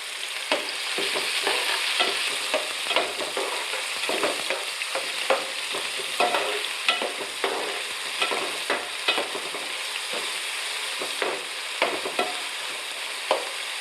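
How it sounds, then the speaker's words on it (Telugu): Chopped onions fry in a hot pan with a steady bright sizzle, broken by regular scraping stirs and clinks of a spatula, close and continuous, with no voices. "కట్ చేసుకున్న ఆనియన్స్ వేసాను ఫ్రెండ్స్. ఒకసారి వేసి కలుపుదాం."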